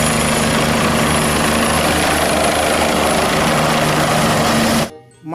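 A toy helicopter giving a loud, close, steady whirring rotor sound with a continuous hum, running evenly and then stopping abruptly near the end.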